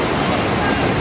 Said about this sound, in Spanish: Este río se llama Puenteadero y es uno de los ríos más lindos de Mutatá.